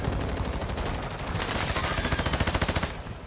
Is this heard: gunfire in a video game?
yes